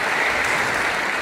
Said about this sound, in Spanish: un gran aplauso para el primero